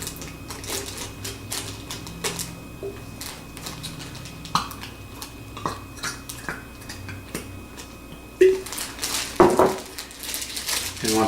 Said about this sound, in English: Push it around, get it all over your chicken